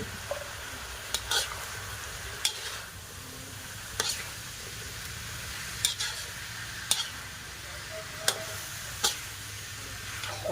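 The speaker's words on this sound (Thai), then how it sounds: "ตามมาด้วยหัวฝักยาว ใส่ลงไปเลย" Long beans and pork belly sizzle and stir in a hot wok, with occasional sharp clicks and scrapes of a utensil against the metal.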